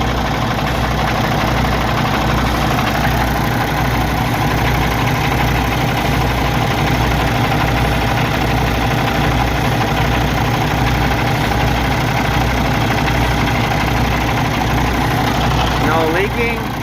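A car engine idles steadily after a power steering pump replacement, a loud continuous rumble with an even low pulse that stays unchanged throughout.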